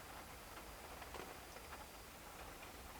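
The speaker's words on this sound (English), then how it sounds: "It's still raining." Steady rain patters on the cab of a Volvo FH truck, a faint, even hiss with scattered light drops ticking, heard from inside with no talking.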